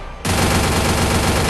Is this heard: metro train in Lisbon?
no